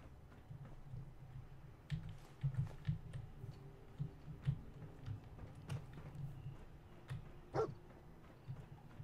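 Dogmeat, the dog companion in Fallout 4, barks and yips in a string of short, fairly soft woofs scattered through a quiet night scene, with footsteps and low game ambience underneath.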